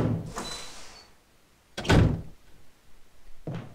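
A door opens in the game Resident Evil HD Remaster: a soft creaking swell, a heavy thudding clunk about midway, then a shorter knock near the end, all without voices.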